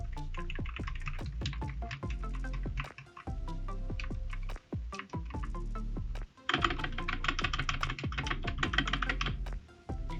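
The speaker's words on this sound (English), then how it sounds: "I'm going to start off by doing some light touches so you can hear how noisy the caps are." Light, rapid key presses clatter on a DIERYA DK63W Bluetooth and wired mechanical gaming keyboard, a steady stream of crisp clicks with brief pauses, close and alone.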